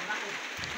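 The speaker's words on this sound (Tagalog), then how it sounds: "Parang ambol na lang po yung ulan." Light rain patters steadily on surfaces at a rural farm, a soft continuous hiss heard in a brief moment under faint talk.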